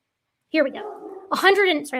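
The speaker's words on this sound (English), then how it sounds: "that's my dog." A pet dog gives a couple of close whiny barks and yips while a person talks over them.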